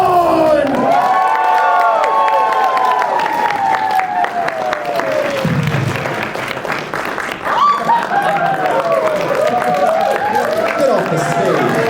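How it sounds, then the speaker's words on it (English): A packed convention crowd at a wrestling show cheers, whoops and yells continuously, loud and near, with shouting voices rising and falling throughout and no pause in the noise. "then cheer for the man among men, Gaston!"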